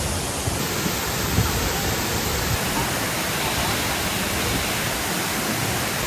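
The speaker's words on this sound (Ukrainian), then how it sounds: "Це вже такий потужний водоспад," A powerful waterfall on Lombok, Indonesia thunders continuously nearby, a dense, steady rushing roar with no pauses.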